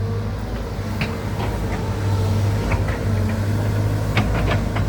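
A Cat 313GC excavator's four-cylinder engine runs steadily nearby during roadside weed clearing, a low droning hum with a few light clanks and knocks over it.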